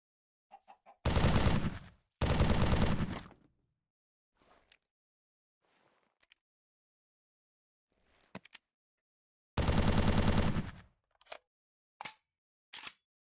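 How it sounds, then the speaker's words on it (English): An MA5B assault rifle in a Halo-style video game fires three loud sustained automatic bursts, each about a second long, with sparse faint clicks and quiet gaps between them. "MA5B assault rifle. With actual holographic or holodynamic ammunition system."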